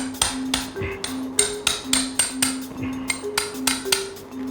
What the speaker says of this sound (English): we've chiseled that sharp bit of bone nearly off